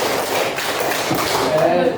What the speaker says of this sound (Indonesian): Coba tepuk 1, tepuk 2, tepuk 3, tepuk 4, tepuk 5.